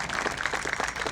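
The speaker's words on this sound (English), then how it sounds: "let's take this time right now to give a round of applause to the veterans who are here with us today" Applause from an audience honoring veterans at a Long Beach Veterans Day festival, a steady dense patter of clapping at moderate volume throughout, with no talk over it.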